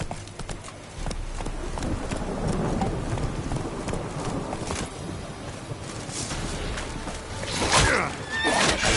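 Roach, a horse in a video game, gallops with steady, rhythmic hoofbeats, loud and close throughout, and lets out a whinny near the end.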